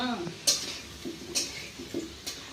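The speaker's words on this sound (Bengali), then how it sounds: "এখন আলু ভাজা হচ্ছে তেলে" Potatoes frying in oil over a wood fire for biryani, a quiet sizzle beneath repeated sharp clinks and scrapes of a utensil against the pot, with faint voices in the background.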